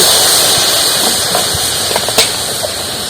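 Sizzling as a little water hits a hot pan with sugar for Bengali mishti doi, a loud, steady bright hiss with a few soft clinks and pops, cut off sharply at the end.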